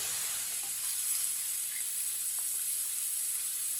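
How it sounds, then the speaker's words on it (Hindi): Potatoes frying in a pan of hot oil for an aloo baingan dish, giving a steady soft sizzle and hiss that runs evenly throughout without talk. "आलूओं को भी मैंने 3-4 मिनट के लिए फ्राई कर लिया।"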